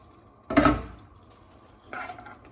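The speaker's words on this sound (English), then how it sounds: "put the lid on and we'll just let that simmer away for 5 minutes" A lid set down on a slow cooker of jugged hare left to simmer, one clattering contact followed by a softer second clink, close and alone without talk.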